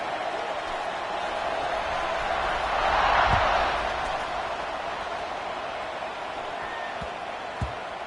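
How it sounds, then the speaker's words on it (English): A football stadium crowd at a Colorado at Florida game roaring before kickoff, a broad wash of distant cheering that swells in the middle then settles, with a couple of faint thumps. "this crowd now ready to get behind them"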